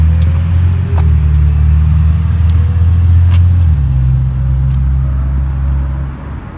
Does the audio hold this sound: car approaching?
yes